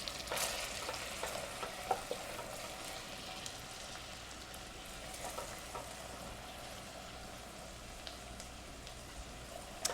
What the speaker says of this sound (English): just going to lower this heat just a little bit. And I want to soften up this onion